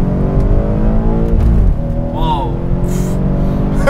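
A BMW X5 M engine revs and accelerates with a loud, dense roar, then a brief pitch dip near the middle as it shifts before pulling again, with people talking over it.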